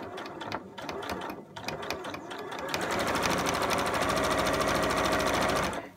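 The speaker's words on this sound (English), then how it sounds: "this seam I'm going to stitch straight over it, and it's going to be bulky, so I'm going to go a bit slower" A sewing machine stitches over a bulky seam on a scrubs bag, first in short start-stop bursts, then in a fast, steady mechanical rattle that stops abruptly.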